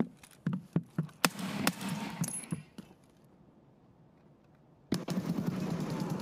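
Rapid bursts of gunfire from Escape from Tarkov, a string of sharp close shots over about three seconds, then near silence, then a dense loud burst of fire toward the end.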